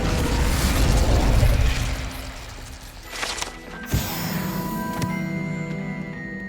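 A fire spell cast in the Hogwarts Legacy video game, heard as a swelling whooshing roar of flame that leads into a sharp burst with crackling pops and a ringing magical shimmer as it fades.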